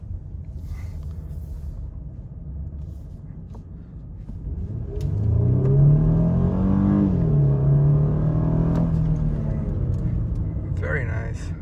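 A 2010 Toyota Crown Royal Saloon with a six-speed automatic accelerates in sport mode, its engine note swelling from a low cabin rumble into a steady, rising drone with a smooth shift midway.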